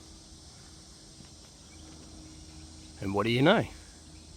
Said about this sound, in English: Eucalypts and cicadas. That is the sound.